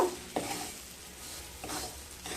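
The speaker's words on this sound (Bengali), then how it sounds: "চিনির সাথে সুজিগুলোকে ভালোভাবে মিশিয়ে নেব।" A spoon stirs dry semolina with sugar in a pan while making jhal sooji, with soft, faint scraping strokes, a few sharper scrapes standing out against a quiet background.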